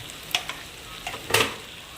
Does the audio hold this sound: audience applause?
no